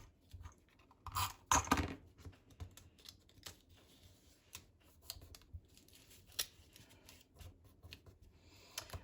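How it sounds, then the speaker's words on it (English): Tape is pulled and pressed down onto a wreath in close, quiet bursts of crackling and tearing, with a louder rip near the start and scattered soft taps afterward. "let's put that tape down"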